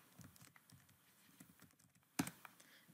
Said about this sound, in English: you can just type in words as well